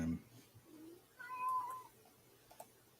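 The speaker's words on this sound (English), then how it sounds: "I hear a kitty." A house cat meows once, fairly faint and a short way off, with a brief upward tonal cry, while a person talks around it in a quiet room.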